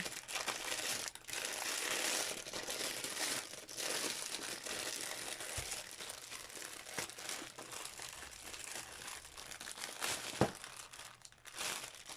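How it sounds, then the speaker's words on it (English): Crinkly plastic and cardboard packaging being rustled and crumpled while a ball-jointed doll is unboxed, close and continuous with irregular crackles and a few sharper crunches, no voices. "Sorry about the rustling."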